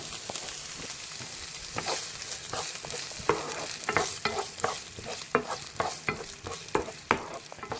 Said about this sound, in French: Je mets mon oignon avec mes échalotes que je vais faire revenir.